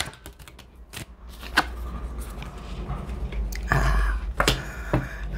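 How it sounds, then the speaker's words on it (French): Tarot cards are shuffled and set down on a table in a series of crisp, close flicks and soft slaps, with a few louder snaps near the end and no talking. "Alors, je pose les cartes et je vous dis."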